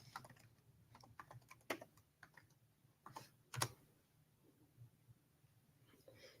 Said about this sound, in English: Okay, so I typed the word in there.